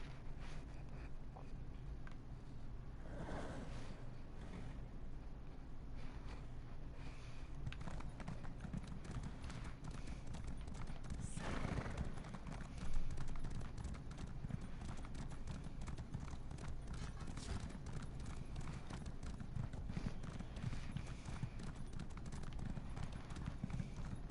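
Steady clip-clop of horse hooves in The Elder Scrolls Online, quiet and continuous, with a soft ambient backdrop throughout.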